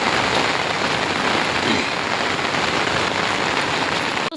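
Steady rain falls in a village, a dense, even hiss of drops on surfaces that holds at the same level throughout with no voices.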